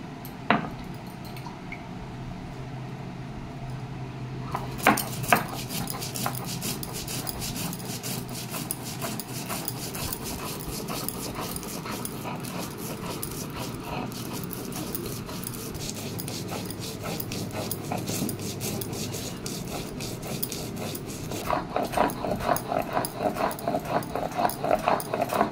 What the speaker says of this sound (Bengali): সরষা প্রথমে বেটে নিচ্ছি